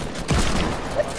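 Gunfire in the Fortnite video game, a quick burst of muffled shots at moderate volume that rattles off in under a second against a busy in-game background.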